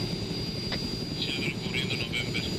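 Helicopter in the Arma 3 military game, a steady low rotor and engine rumble holding throughout, with faint higher chirps and voice-like bursts riding on top partway through.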